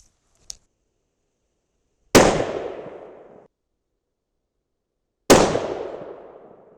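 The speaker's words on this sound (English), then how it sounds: "let's shoot a 3-shot group" A Thompson Center Compass rifle in 6.5 Creedmoor fires two loud, sharp shots a few seconds apart, each with a long echoing decay outdoors, after a small click.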